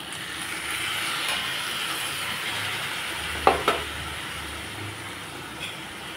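A little water poured into a frying fish curry sets off a steady, close hiss of sizzling, broken midway by a couple of sharp clinks from a spoon or pan, with no talking.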